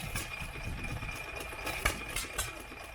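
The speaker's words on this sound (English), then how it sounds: "here we go, hit and miss engines" A small hit-and-miss engine at a car show runs steadily with irregular firing pops and a constant mechanical hum, loud and close with no talking.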